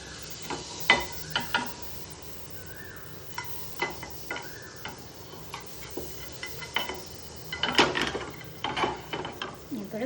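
Butter melts in a frying pan for toasting bread, a faint sizzle punctuated by scattered utensil taps and pan clicks, with a voice talking over parts of it.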